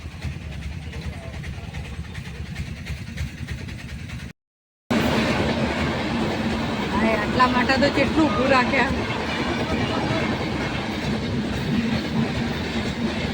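A train rolls past a closed railway level crossing, a steady loud rumble and clatter of wagons that continues after a brief cut, while people talk nearby.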